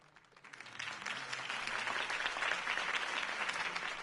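A crowd at a political campaign rally breaks into applause that starts faint and quickly swells into full, sustained clapping and stays strong to the end.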